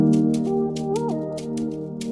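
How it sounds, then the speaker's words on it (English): A shaker loop in an Afrobeat drum pattern ticks in steady bursts over a sustained chordal pad and melodic synth line, all played back together at moderate level. "Simply edit this shaker loop initially."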